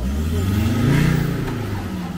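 An off-road car stuck in mud revs its engine hard and loud, the pitch climbing and falling in a sustained throaty drone close by, with no voices over it.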